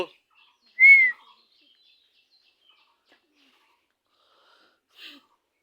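A pet parrot named Mithu gives a single clear, rising whistled call close by, followed by quiet and then a faint short chirp several seconds later.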